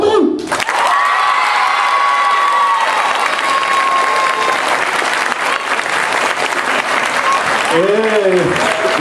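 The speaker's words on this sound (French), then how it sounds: "Oui, maintenant vous allez l'applaudir, ça c'est sûr." A theatre audience at a stage show bursts into sustained, loud applause with some cheering and shouts, dense and continuous throughout, with a voice rising briefly near the end.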